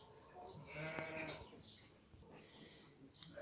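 Merino sheep bleat several times, overlapping calls from a flock at moderate distance, wavering and continuous.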